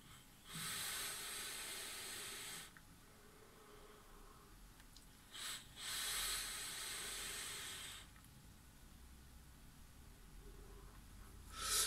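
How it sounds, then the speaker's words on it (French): A Wotofo Warrior RDA dripper fired at 57 watts on a 0.25 ohm build with airflow wide open gives two long, steady hissing pulls of several seconds each, separated by a quieter gap. "c'est un dripper qui fait vraiment beaucoup de vapeur"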